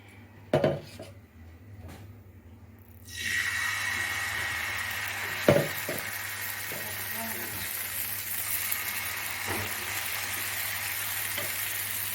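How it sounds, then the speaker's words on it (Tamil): Rice batter poured into a hot pan for Kerala kalathappam sets off a loud, steady sizzle that holds after a few clanks of utensils on cookware. "இப்போ இதிலே மாவு ஊற்றிக்கலாம்"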